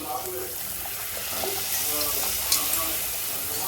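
Puri dropped one at a time into hot oil for hotel-style puri sagu, a steady bright sizzle with soft bubbling and occasional clinks, close and continuous.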